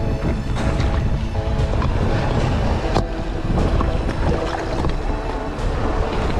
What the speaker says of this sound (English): the wind is stronger